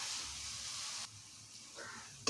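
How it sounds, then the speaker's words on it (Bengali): Spice paste for masoor dal bora bhuna sizzling in oil in a wok, a bright hissing fry for about a second that drops to a softer simmer, with a brief clatter at the end. "এবার আমি ভালো করে আবারও কষিয়ে নেব যতক্ষণ না তেল ছিটে ওঠে।"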